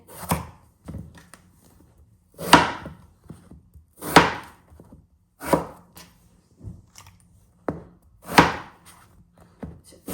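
A knife chops through eggplant on a board in a home kitchen: a close series of sharp, solid thunks spaced about one to two seconds apart, with faint knocks in between and no talking.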